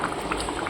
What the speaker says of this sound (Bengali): দিয়ে এবার একটুখানি ফোটাচ্ছি, অনেকক্ষণই ফুটেছে